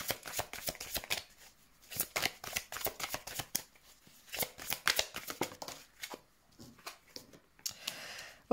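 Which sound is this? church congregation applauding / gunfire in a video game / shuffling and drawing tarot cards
shuffling and drawing tarot cards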